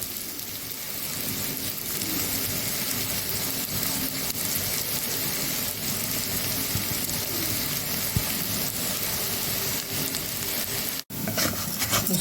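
Orzo frying in oil in a pot while being stirred until golden brown, a continuous loud sizzle with scraping stirring sounds and no talking.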